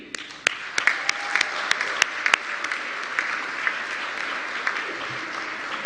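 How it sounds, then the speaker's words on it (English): Audience applause at a cyber capacity building conference, a steady wash of clapping with a few sharp, close claps standing out, fairly loud and continuous with little talk. "An applause also for you, the audience, the wider GFCE community."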